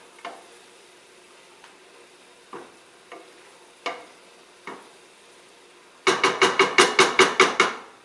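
A long spoon stirs a pot of homemade tomato red sauce, scraping and knocking against the pot in a few spaced strokes, then a quick run of about ten rapid, louder clacks near the end, with no talking.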